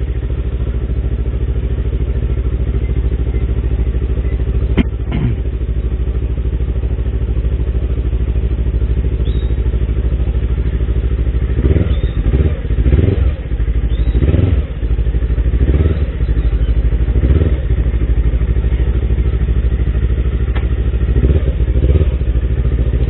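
A motorcycle engine idles steadily while warming up, a constant close rumble with occasional clattering thumps partway through.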